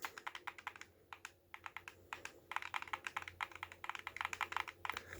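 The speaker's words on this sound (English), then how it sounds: "let's try the little click test." Buttons on a PlayStation DualSense Edge wireless controller clicked over and over in close, crisp bursts, at first sparse and then rapid, rattling runs, heard on their own with no talking.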